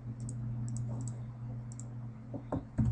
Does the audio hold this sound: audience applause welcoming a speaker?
no